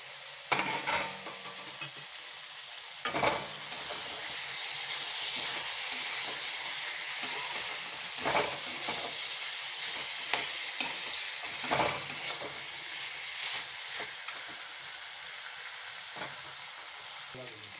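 Chicken pieces fry in a spiced masala that has already released its oil, a soft continuous sizzle broken by repeated scraping stirs of a spoon against the pan, with no talk.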